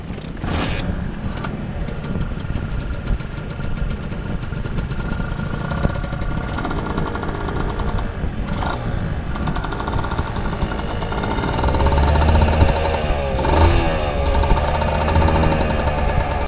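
A low-mileage 1996 Honda NSR-R motorcycle engine runs close by with a steady, slightly rough idle and faint piston ring clearance noise, growing louder toward the end.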